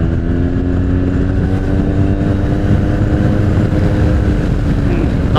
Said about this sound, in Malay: Kita tengok macam mana performance memotong motor ni.